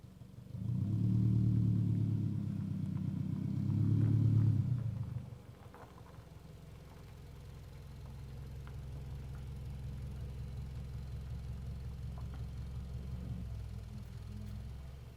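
A car engine idles low and steady while reversing slowly toward a rock, with a louder rumble at first that settles into a soft continuous hum.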